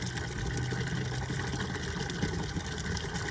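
A solar submersible pump running with water flowing out of it, a steady, dense motor drone mixed with a continuous rushing stream, close and even throughout.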